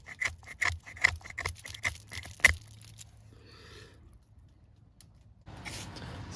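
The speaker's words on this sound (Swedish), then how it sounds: "Den vassa ryggen fungerar helt okej att skrapa med." The sharp back spine of a Victorinox Venture Pro knife scrapes in a quick series of rasping strokes, close and rhythmic, then stops and gives way to quieter handling and a soft hiss.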